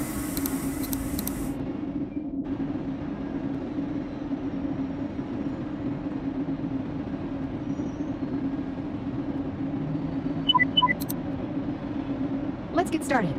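A bus engine in the driving game Bus Simulator Ultimate idles with a steady low hum while a voice speaks over it, with brief chimes and clicks near the end.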